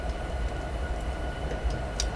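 Freight trains on the Horseshoe Curve main line in Train Simulator 2019 rumble past steadily, a loud continuous low roar with faint clicks from the rails and no talk over it.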